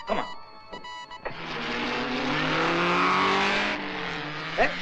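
A car accelerates with a rising engine whine and strained revving that swells for a few seconds and then drops off, following brief knocking sounds.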